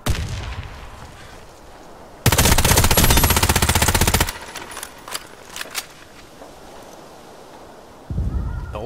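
Warface video game machine gun fire: a loud, dense burst of rapid automatic shots lasting about two seconds, followed by scattered quieter shots and a second burst starting near the end.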